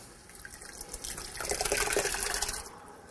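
Crushed canned tomatoes poured over meat in a pan, heard as a soft, wet, splashing pour that swells in the middle and then tapers off, quiet and alone.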